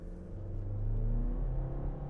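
A 2024 Chevy Colorado LT's warmed-up engine accelerating on the road: a steady, close low rumble whose pitch climbs smoothly as it pulls, with no talking.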